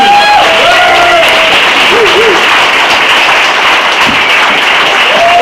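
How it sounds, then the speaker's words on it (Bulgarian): An audience at an evening book presentation applauds as a guest is invited to the stage: a steady, dense wash of clapping for about five seconds, with a few voices or whistles rising over it. "Много аплодисменти!"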